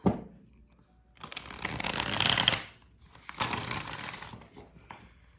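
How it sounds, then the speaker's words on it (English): Tarot cards shuffled in two bursts of rapid riffling and slapping, close and fairly soft, with a short pause between them and no talk. "Okay, one more shuffle, guys."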